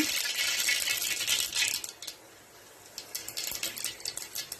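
Cumin and mustard seeds crackling and spattering in hot oil for a Solapur-style tomato amti, a dense, close, sizzling patter that dips briefly and then resumes in scattered pops.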